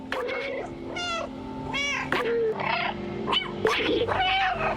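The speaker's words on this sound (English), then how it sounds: "Just keep meowing at the B12 as B12's trying to explain things." A cat character in the video game Stray meows repeatedly, a series of clear, close cries with varied pitch, while a voice talks over the game sounds.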